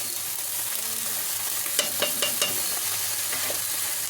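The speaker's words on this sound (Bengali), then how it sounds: "এখন উপর থেকে আদা রসুনের পেস্টটা আমি দিয়ে দিচ্ছি।" Ginger-garlic paste fries in a spiced masala for a potol and prawn curry, a steady broadband sizzle with a handful of sharp scrapes and clacks from stirring around the middle and again near the end.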